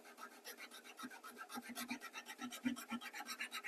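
A brush sweeps dust off a mahogany wood surface in quick, steady back-and-forth strokes, a close, soft scratchy rasp repeating evenly throughout with no talking.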